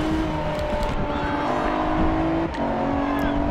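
Game car with a titanium exhaust in Forza Horizon 2 holds a continuous droning engine note, then briefly dips and shifts gear near the end, loud and close with no voices.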